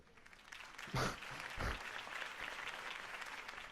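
Applause from a crowd in the video game Batman: The Telltale Series is heard at a distance, a steady patter of clapping with a couple of louder bursts, sounding slightly processed.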